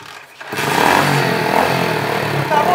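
A motorcycle engine catches after a short quiet moment and then runs loud and steady with a rough, revving drone until the end, with no talk over it.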